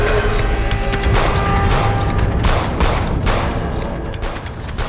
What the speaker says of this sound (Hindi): कार में बैठे बदमाश अचानक पुलिस पर फायरिंग कर देते हैं